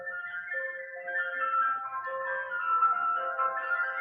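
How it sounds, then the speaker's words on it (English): An ice cream van's chime melody plays steadily outside, a bright tune of sustained tones heard through a room without anyone talking. "you might hear the ice cream van outside"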